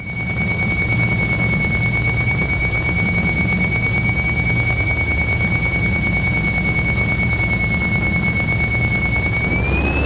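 A DR400 light aircraft engine roars steadily at full power during a go-around over the runway threshold. It sounds loud and continuous from inside the cabin, with a sustained high whine running across the drone.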